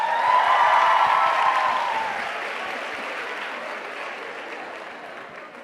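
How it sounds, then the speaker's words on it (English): A crowd at a festival applauds in a broad, sustained wash of clapping that is loudest at the start and slowly thins while staying steady. "Can we give him a round of applause?"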